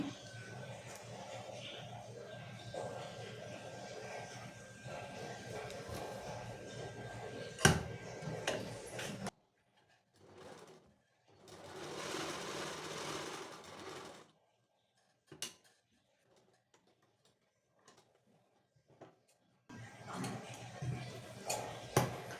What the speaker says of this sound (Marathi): मी आधी सरळ टिपा टाकून घेते